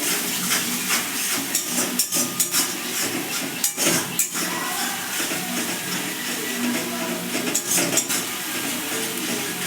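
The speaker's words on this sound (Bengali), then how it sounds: "এই মশলাটা একটু কষে নেবো খানিকটা।" Masala with Kashmiri red chili powder being sautéed in a pan for doi potol: a loud continuous hissing sizzle broken by a few sharp utensil knocks against the pan.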